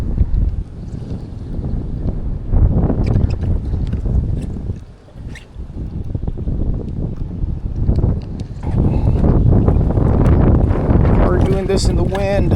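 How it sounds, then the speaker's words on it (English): Wind buffets the microphone on a kayak out fishing after a storm, a loud, rumbling roar that rises and falls in gusts, with a voice talking over parts of it. "We're doing this in the wind."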